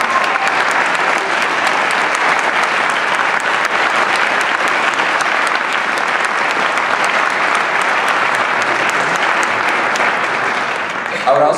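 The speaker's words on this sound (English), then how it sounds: "Let's give them a round of applause." A large audience at an honors band concert applauds band directors, dense sustained clapping filling the hall for over ten seconds before easing off at the end.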